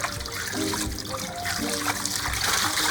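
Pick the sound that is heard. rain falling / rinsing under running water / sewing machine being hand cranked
rinsing under running water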